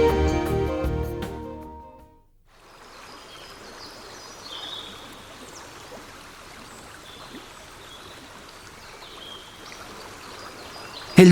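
Duero river flowing at Gormaz in Castile: a steady, soft rush of running water, continuous and fairly distant, after a brief burst of other sound at the start.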